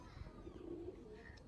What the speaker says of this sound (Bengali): এই যে তো মাদি কবুতরটা